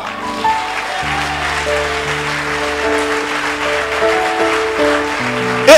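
A church congregation applauds steadily and loudly throughout, a broad wash of clapping over sustained organ or keyboard chords, with a sharper burst at the very end.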